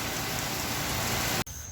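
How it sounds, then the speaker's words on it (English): Heavy torrential monsoon rain pours down as a dense, loud, continuous hiss that cuts off abruptly near the end. "It's a monsoon. Oh, it's pouring so much."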